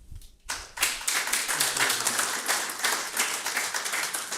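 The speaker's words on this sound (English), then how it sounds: "let's have another big round of applause" Sustained audience applause in a hall, many hands clapping densely and loudly after a brief quiet start, holding steady throughout with no voices over it.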